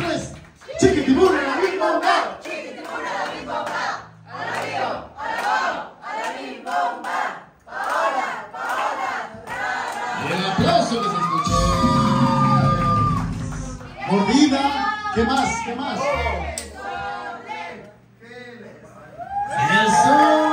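A lively crowd at a house party shouts and cheers a rhythmic call-and-response chant, voices rising in loud bursts with laughter and whoops throughout.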